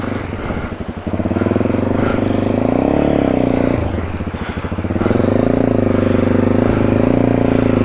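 An off-road motorcycle engine labors and revs loudly up close in the Victorian High Country, its pitch rising and falling between throttle pulls.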